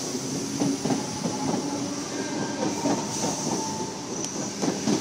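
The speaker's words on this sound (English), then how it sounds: "And we have a 10 T-set now departing platform number 2, Cronulla service." A Sydney Trains T-set electric train pulling away from the platform at Como station, a steady rolling rumble with rhythmic wheel clatter, fairly close and continuous without speech.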